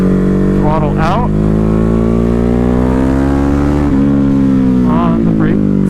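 A Ducati Hypermotard 950 engine drones loud and steady under throttle while riding, its pitch shifting slightly, with wind noise throughout and a rider's voice talking briefly over it.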